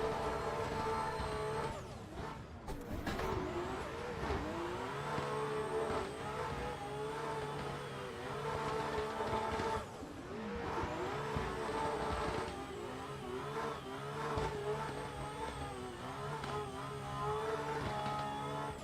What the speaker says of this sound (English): That was not a bad chase run considering I haven't chased a Mustang in this car before.